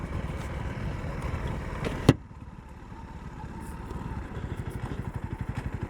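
Dirt bike ridden along Mount Elliott Road, a gravel track in Undullah, Queensland, its engine buzzing steadily with rough, pulsing revs and one sharp knock partway through, close and continuous without talk.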